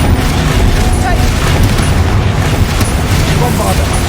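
Confringo spell blast in Hogwarts Legacy, a sustained loud roar of booming, crackling explosive noise with deep rumble running throughout, thick and continuous without a clear single hit.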